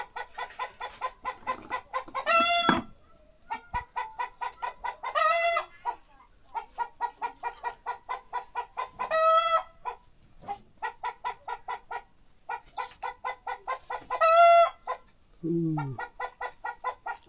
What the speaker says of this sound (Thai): โอ้ไก่คือกระตากแต่เนาะ